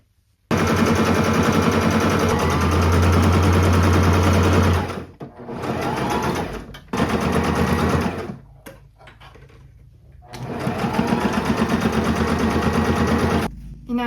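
A sewing machine runs in steady bursts, stitching non-stretchy fabric with high tension and a medium stitch length. Its rapid, even whirring comes up close and loud, pauses briefly, then runs again, with no talk.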